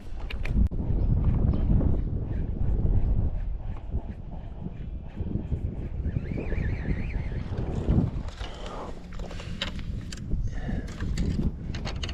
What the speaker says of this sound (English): I'm gonna pull up the electric and motor down this bay a bit further